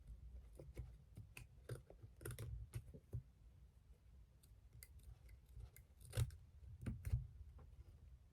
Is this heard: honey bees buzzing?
no